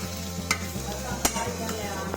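Boiled potatoes for vada pav filling are stirred and mixed in a pan, with several sharp scrapes and knocks of the spoon over a constant sizzling hiss and a low hum, and no talk.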